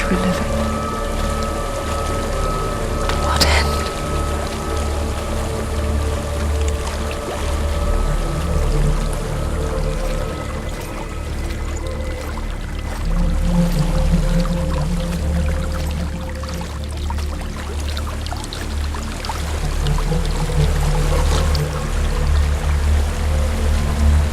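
A waterfall in the video game Hellblade: Senua's Sacrifice rushes as a continuous broad wash of falling water, moderately loud and steady, with a low rumble beneath and scattered faint game sounds.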